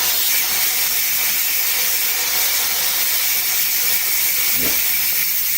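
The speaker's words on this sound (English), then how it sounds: "We're waiting on the steam to be released." Steam escaping from a Pampered Chef multi cooker while it cooks creamy mushroom soup, a steady loud hiss running throughout.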